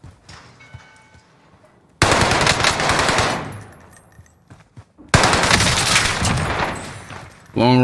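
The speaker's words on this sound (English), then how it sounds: "Long range OWEN gun, man." An Owen gun fires in Call of Duty Warzone on Rebirth Island in two long, loud, rapid automatic bursts, each cut off abruptly, with quieter game ambience between them.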